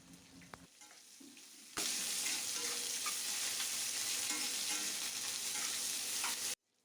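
Chopped onions drop into hot oil already holding bay leaves, green chillies and garlic, and a loud continuous sizzle of frying bursts out after some quieter clinks and stirring, then holds steady before cutting off.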